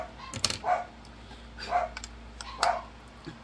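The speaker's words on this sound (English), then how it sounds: "I don't know what they're barking at, but they're barking at something" Indoor dogs bark in three separate bursts spaced about a second apart, fairly close but moderate in level, with a quiet steady hum in the room.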